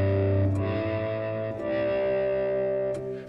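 A synthesized lead built in Logic Pro X with synthesis, MIDI effects and processing, no guitar, plays sustained distorted notes with chorus and echo, changing pitch a few times; loud and close, with no voices.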